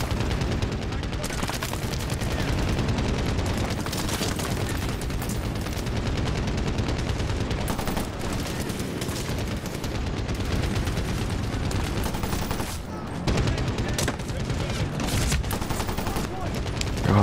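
Dense, sustained gunfire and explosions in the first-person shooter Medal of Honor: Warfighter, including machine gun and heavy .50 cal bursts, loud and continuous, with a voice talking over the fighting.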